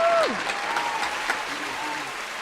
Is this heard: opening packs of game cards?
no